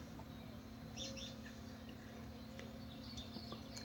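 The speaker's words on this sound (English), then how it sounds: "The sounds of small insects and birds reach your ear." Faint, scattered chirps of small birds and insects in a game's garden with a sunlit glass roof, a few brief tweets rising over a quiet, steady low hum.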